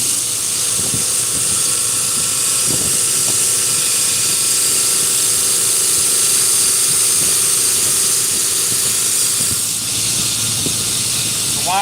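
A grinder grinds a wide full flat bevel on a steel knife blade, a steady loud hissing drone held for the whole stretch with faint knocks underneath.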